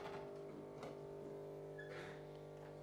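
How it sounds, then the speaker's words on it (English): Noisy drain pump of a Bosch washing machine running steadily, a constant humming drone with faint rattling and a brief higher whine, fairly quiet and with no talk. "Ooh, I've got a very noisy pump."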